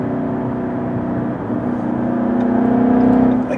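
A 2017 Ford Mustang fitted with a Roush Stage 3 kit accelerating, its engine note droning steadily and swelling louder as revs climb, heard from inside the car with no talking.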